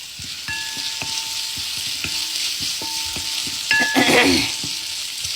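Potatoes frying in a pan for batata poha, a steady close sizzle with rhythmic scraping and stirring strokes of a utensil, plus a brief louder clatter near the end; no voices.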